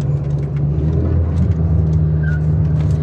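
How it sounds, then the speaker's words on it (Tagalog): Pickup truck engine rumbling close by, a loud steady low drone with road noise throughout and occasional faint higher squeaks, no talk heard. "Pick up truck."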